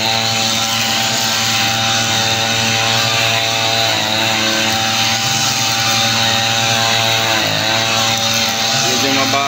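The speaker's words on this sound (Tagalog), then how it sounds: "Medyo mabagal siya mag-grass cutter mga idol." Continuous loud buzzing of a gasoline string trimmer cutting grass and weeds, its engine holding a steady high drone nearby with a brief pitch dip as the load changes, no pauses.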